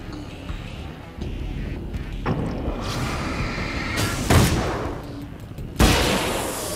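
Gunshots in the video game Alan Wake's American Nightmare: sharp, loud blasts, one prominent shot around the middle and another near the end, rising over a steady rumbling game soundscape.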